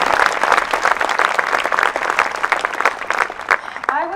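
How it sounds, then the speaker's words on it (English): A choir audience gives loud, dense applause for the woman who played piano for them, the clapping continuous and close throughout. "let's give a round of applause for Mrs. Valerie Cott"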